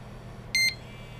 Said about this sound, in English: you're going to start hearing the actuator motor moving back and forth. Every unit, it will beep.